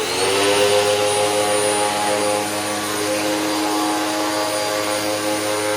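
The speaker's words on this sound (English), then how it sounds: "let's go with the Hoover, even though it has a really rough roller brush" Hoover Max Capacity upright vacuum cleaner with a rough roller brush running loud and close, a steady whining motor drone with strong tonal harmonics, continuous for several seconds with no talking.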